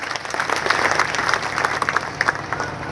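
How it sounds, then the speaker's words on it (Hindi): Crowd at a political rally in Mahendergarh clapping hands in dense, sustained applause, loud and close, with no talk over it. "बड़ी ताली बजा दीजिए।"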